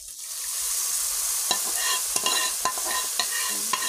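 Red lentils being stirred into a pan of fried onion and turmeric, with soft sizzling underneath and a series of sharp spoon scrapes and knocks against the pan, close and fairly quiet, no talking.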